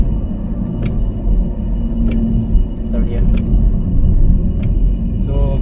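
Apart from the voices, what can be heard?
car driving on a road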